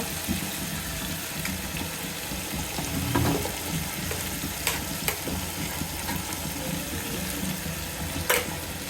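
Onion paste fries in a pan for chicken korma, a steady close sizzle with occasional stirring scrapes and taps; no talking.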